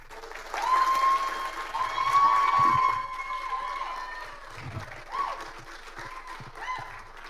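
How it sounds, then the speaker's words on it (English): Audience applause at a TEDx talk at Clemson University, a steady wash of clapping with some cheering that swells and then thins out, heard from within the hall. "just give a huge, warm round of applause for Dr."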